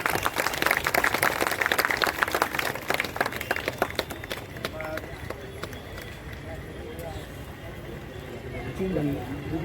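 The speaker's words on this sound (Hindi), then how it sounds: "तालियों से जरा स्वागत करना है सबका।" An audience at a builder's society meeting in Jogeshwari claps to welcome guests, a dense burst of applause that thins into scattered claps, with voices talking through and after it.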